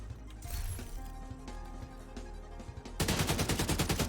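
An AK assault rifle in The Division 2 fires as a heavy-recoil automatic burst from a 30-round magazine. Quieter in-game ambience and clinks come first, then a loud, rapid, evenly spaced string of shots runs to the end.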